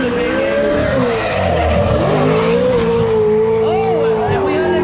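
A race car power-slides through a wide-angle bend at the Freedom Factory compact car series, engine droning loud and steady with a rising and falling pitch while tires squeal continuously, a commentator talking over it.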